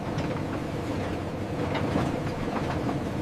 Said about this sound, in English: The cane train moves the crop to the refinery instantly.